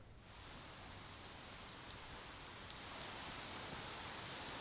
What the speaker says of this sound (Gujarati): અમદાવાદ શહેરની અંદર બપોર બાદ વરસાદ શરૂ થયો છે